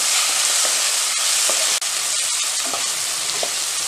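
Capsicum fries in a pan for a besan sambharo with a bright, hissing sizzle. A spoon stirs through it with intermittent scrapes and one brief break.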